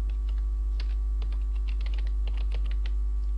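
Computer keyboard typing of column names during SQL Server work, heard as irregular close key clicks over a loud, constant low hum, with no speech.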